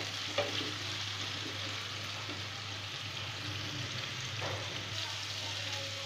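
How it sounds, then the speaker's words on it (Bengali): Chicken pieces sizzle in hot oil for a pizza topping, a steady crackling fry throughout with a faint low hum and an occasional soft clink. "আমার চিকেনটা ফ্রাই করা হয়ে গিয়েছে"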